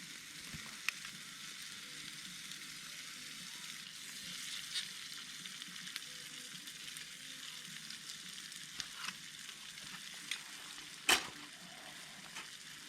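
Steak frying in olive oil at a wilderness campsite, a steady close sizzle with faint crackles and one sharp clatter near the end, and no voices.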